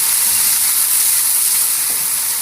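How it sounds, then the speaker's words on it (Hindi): Ginger garlic paste sizzles and fries in a hot pan as it is stirred, a loud, continuous bright hiss with no talking. "1½ टेबल स्पून यहाँ पर अदरक लहसुन का पेस्ट लिया है, वो ऐड करके इसे थोड़ा सा चला लेंगे"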